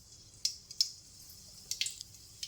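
Mustard seeds splutter in a spoonful of hot oil for a tempering, giving a few sharp, close pops and crackles at irregular intervals over a quiet background.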